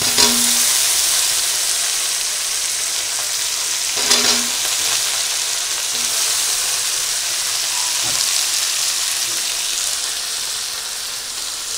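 Potatoes fry in hot oil for rui fish kalia, a loud continuous sizzle with a few stirring clinks and scrapes scattered through it.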